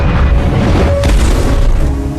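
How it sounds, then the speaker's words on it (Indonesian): A gas explosion in an apartment during a firefighter rescue film scene, a loud deep boom with a crashing burst that rumbles on for about two seconds. "Sayangnya sebelum korban ditemukan, gas meledak."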